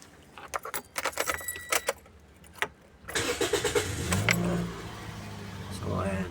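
A third-generation Toyota Vios engine cranks and catches, rising into a steady idle after keys jangle in the ignition and a few light clicks, heard close from inside the car with a voice speaking briefly.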